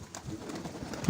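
Mykolaiv pigeons coo softly in a short, low, throaty burst, with faint background rustle and no other voices.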